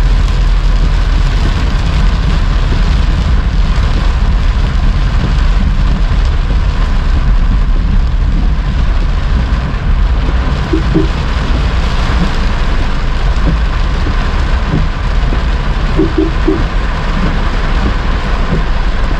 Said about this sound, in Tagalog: Oh, grabe ulan guys.